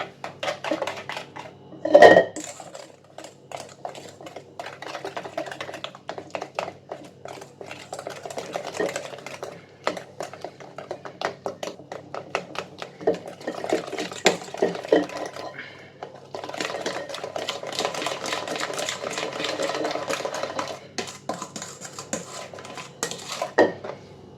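Cake batter with two large spoonfuls of bitter cocoa being mixed in a bowl for a banana cake: steady clinking and scraping of a utensil against the bowl, with a sharp knock early on, close and moderately loud, no talking.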